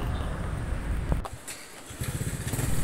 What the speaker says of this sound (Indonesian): Engine atau mesin sudah nyala, suara halus karena tutup klep bagian ini tuh belum saya tutup